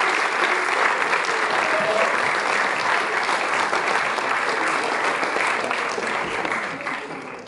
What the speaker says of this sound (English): I've got a round of applause for the people who came up and volunteered